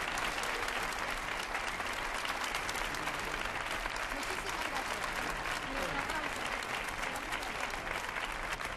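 A TV studio audience at a 1980 Madrid game show claps in a dense, steady wash of applause that stays at one level throughout, with crowd murmur mixed in.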